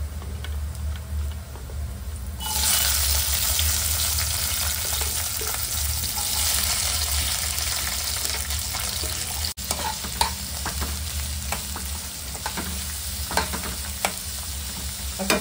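Capsicum (shimla mirchi) sizzling and frying with browned garlic in a pan for an egg capsicum chilly dish, a loud, steady crackling hiss that rises after a few seconds and continues with occasional stirring clicks.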